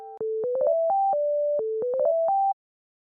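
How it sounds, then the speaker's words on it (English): A phone rings out with a short melodic ringtone, a rising run of clean electronic notes played twice in a row, loud, close and alone. "Our phone?"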